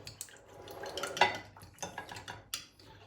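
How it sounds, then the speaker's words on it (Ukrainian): Spoon clinks and scrapes in a small bowl as salad dressing of French grain mustard and lemon juice is stirred, a few sharp metallic taps among softer rhythmic swirls, close and fairly quiet. "Перемішуємо."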